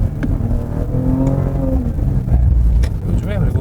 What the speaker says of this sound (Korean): 배기음 자체에서 주는 느낌 자체가 다르죠